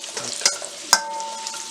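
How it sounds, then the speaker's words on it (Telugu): Raw shrimp frying with green chillies in a pan, a brief close sizzle punctuated by two sharp spoon clinks against the pan. "150 గ్రామ్స్ పచ్చి రొయ్యల్ని వేసుకోవాలి. వేసుకొని ఫ్రై చేసుకోవాలి."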